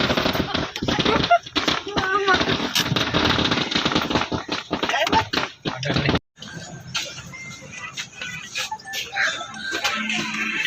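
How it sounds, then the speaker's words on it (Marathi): A long crackling string of firecrackers pops and bursts rapidly for several seconds at a welcome celebration, then fades into scattered noise and distant voices. "फटाक्याची आतषबाजी"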